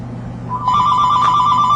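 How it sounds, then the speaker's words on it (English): A phone ringing: an electronic ringtone of rapid, bright repeating tones that starts suddenly and continues loud and close over a quiet room hum. "Sorry about that phone going off there"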